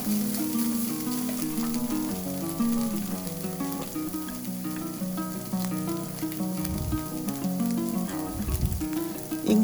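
Chili flakes and chili pieces fry in oil in a pan for noodles, a steady, close crackling sizzle with scattered pops and occasional stirring scrapes, with no talking.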